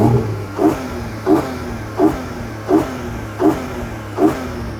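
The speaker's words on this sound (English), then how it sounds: "if you get the GTS model, its naturally aspirated flat 6 sounds like this." A Porsche Cayman GTS's naturally aspirated flat-six revs sharply six times in a regular rhythm, each loud blip rising over a steady engine hum and falling away, close by and with no talking.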